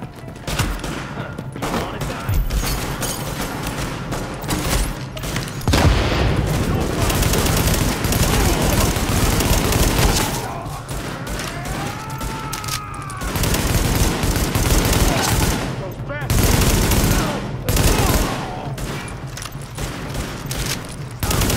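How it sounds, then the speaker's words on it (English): Sustained bursts of automatic gunfire during a rooftop firefight in Tom Clancy's The Division, loud and dense, with brief lulls between volleys and a radio voice heard faintly in the mix. "The escort party's taking heavy fire from the roof."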